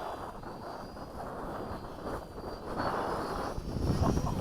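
A Hobby King Mini B-17 model plane flies in gusty, weird winds, its electric motors making a steady buzzing drone that swells and grows louder toward the end.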